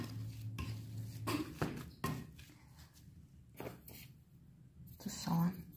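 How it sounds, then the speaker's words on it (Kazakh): Boiled potatoes being mashed in a bowl, with irregular clinks and scrapes of a utensil against the dish, fairly close and soft, while a person speaks intermittently. "Картопты мыжып аламыз."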